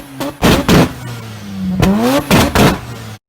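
A loud hot rod engine revs hard in short, punchy bursts, then climbs in pitch on a longer rev before several more sharp throttle blips with exhaust pops, close up.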